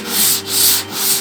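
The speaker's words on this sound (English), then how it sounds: "when you start sanding" Steady back-and-forth rasp of a sanding block worked over body filler coated with a guide coat, with rhythmic strokes and brief pauses between passes, close and continuous.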